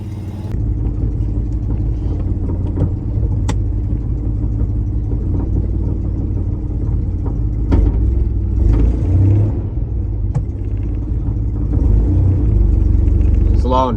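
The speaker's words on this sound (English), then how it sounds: "It's still got a really bad exhaust leak at the front here." A 1984 Holden VK Vacationer wagon idles with a bad exhaust leak at the front, a loud steady low rumble with occasional revs and ticking, and someone talking over it.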